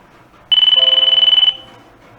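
A phone ringtone alert sounds for a received SOS message, a loud steady electronic tone pulsing rapidly for about one second, then fading into quiet.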